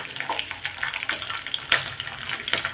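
Finely chopped green chillies drop into a hot dhokla tempering, setting off a steady crackling sizzle with small pops and a couple of louder spits, close and moderately loud, with no talk.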